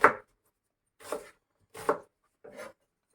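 A knife chops red onions on a cutting board, four distinct close, crisp cuts spaced about a second apart with silence between them.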